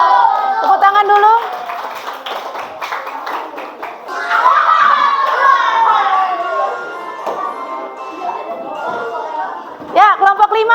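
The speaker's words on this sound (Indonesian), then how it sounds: "Tepuk tangan dulu." A group claps in scattered applause amid lively children's voices and chatter in a classroom.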